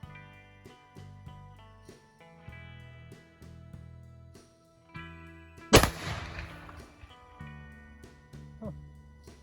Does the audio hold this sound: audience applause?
no